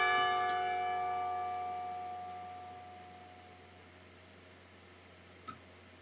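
Clock tower bells in the Katawa Shoujo visual novel ring out with sustained, decaying tones that fade slowly over several seconds, alone with no voices.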